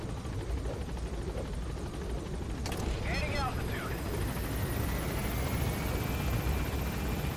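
Helicopter in the video game Metal Gear Solid 5, a steady loud rotor drone that runs throughout, with a brief sharp burst partway through and game sounds layered on top.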